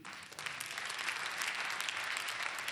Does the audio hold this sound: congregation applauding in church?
yes